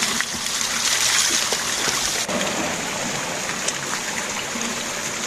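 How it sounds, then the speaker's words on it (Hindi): A mountain stream of cold, year-round water runs along the road between Tanakpur and Champawat. It makes a steady, close rushing and trickling wash with occasional small splashes, and no one is talking. "यहाँ पर बारह मास पानी बहते रहता है"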